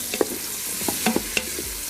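Pre-cooked steak warms in an Instant Pot Duo Crisp, with a continuous hiss of sizzling under several sharp scraping and clacking stirs of a utensil against the pot.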